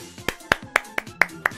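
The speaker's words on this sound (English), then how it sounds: "I have to applaud that" Six sharp hand claps in a quick, even rhythm, close and distinct.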